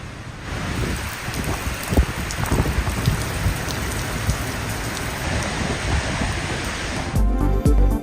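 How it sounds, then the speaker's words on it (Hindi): Heavy rain pours down steadily across the whole stretch as a dense, even hiss with scattered heavier drops. A louder burst toward the end could be thunder or a sudden gust. "दुबई, अबू धाबी और बहरीन में गरज चमक के साथ तेज बारिशें जारी"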